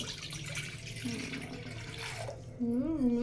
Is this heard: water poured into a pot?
yes